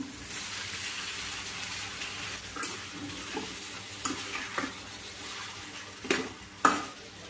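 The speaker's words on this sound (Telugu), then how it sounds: "ఆనియన్ వేగింది కదా ఇప్పుడు టమాటా ముక్కలు వేసుకుందాం" Tomato pieces go into chopped onions already frying in a pan for a curry, giving a steady low sizzle broken by scraping stirs and a few sharper clanks of a spoon on the pan toward the end.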